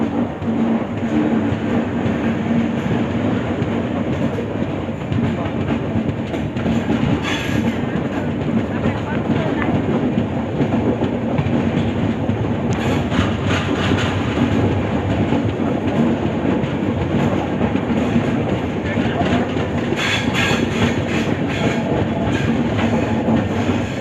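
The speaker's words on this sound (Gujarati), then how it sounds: "મિત્રો આપણી ટ્રેન છે જે નીકળી ગઈ છે સુરેન્દ્રનગરથી" The Mahua Express rolls on after pulling out of Surendranagar, with a loud, steady rumble of wheels and carriages that runs unbroken, overlaid by faint rhythmic clatter and occasional brief squeals.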